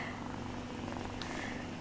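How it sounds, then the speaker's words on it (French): Small female kitten purring close up, a steady continuous low rumble that runs through the whole moment with no talking over it. "je vous présente notre petit bébé chat"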